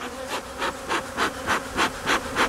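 Bees from an opened hive buzz steadily around a beekeeper, the drone swelling and fading in a regular pulse as insects fly close past, with no voices.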